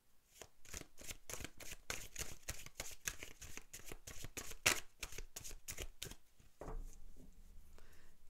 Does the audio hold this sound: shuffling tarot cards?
yes